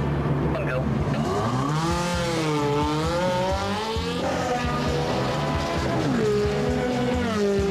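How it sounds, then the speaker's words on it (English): A Ferrari 360 Challenge Stradale engine revs hard on a launch-control start and climbs through rising pitch sweeps, loud and close, as it accelerates away. "Hit launch control for a fast getaway and wait for the call."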